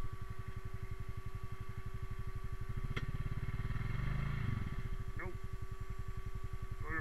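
A Honda Rubicon 520 ATV engine chugs steadily in low gear, a continuous close rhythmic rumble with a couple of brief higher sounds cutting across it midway.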